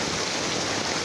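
Heavy rain pours onto a flooded street in Mirpur after hours of downpour, a dense, steady hiss of water with no pauses, close and loud throughout.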